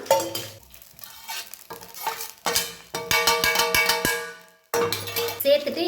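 Kashmiri chillies dry roast on a low flame while a utensil stirs and scrapes the pan, giving bursts of clinking and rattling with a ringing metallic tap pattern in the middle and brief pauses, close by.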